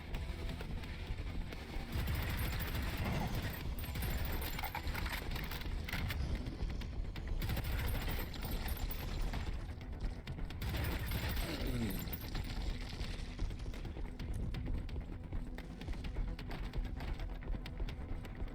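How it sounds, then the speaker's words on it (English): A minigun fires continuously in the video game Prodeus, a steady rapid rattling stream of shots held at even loudness for the whole stretch, with mechanical clatter under it. "pretty decent minigun in this game"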